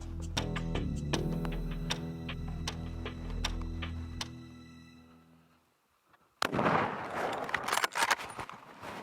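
During an elk hunt, a single sharp rifle shot cracks out after a quiet moment, followed by outdoor rustle and noise; a tonal musical passage fades out before it.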